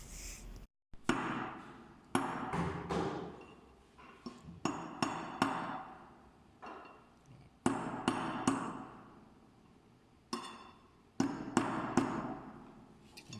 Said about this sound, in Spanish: usaremos el clavo y el martillo para marcar la probeta